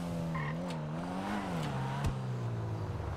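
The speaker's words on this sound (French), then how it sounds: "La moto, elle tourne en rond. Ouais, elle tourne autour de nous" A motorcycle circles around a car on a city street, its engine a steady nearby drone that rises and falls in pitch as it passes back and forth, with no talking.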